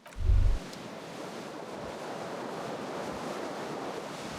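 Cold wind from a broken window in the video game Disco Elysium, a steady hushing rush of air that follows a brief low thump at the start.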